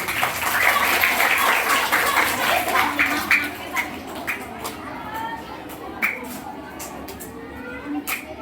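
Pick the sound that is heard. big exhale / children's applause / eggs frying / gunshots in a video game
children's applause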